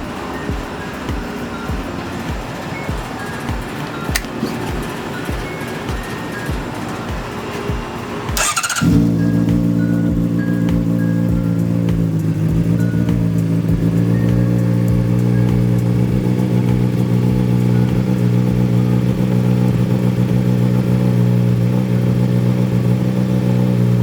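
A Honda CBR600RR motorcycle fitted with a Yoshimura RS5 exhaust fires up after a few starter clicks, settling into a loud, deep, steady idle with slight revving, close by.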